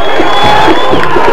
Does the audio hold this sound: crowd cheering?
yes